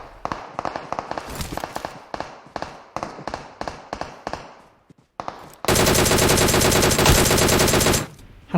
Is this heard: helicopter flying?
no